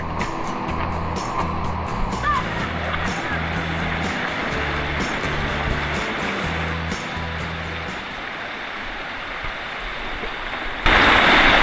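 Shilbunia waterfall in Alikadam rushes in full monsoon flow, a steady broad roar of water heard up close alongside a low repeating engine-like hum, rising sharply louder at the very end.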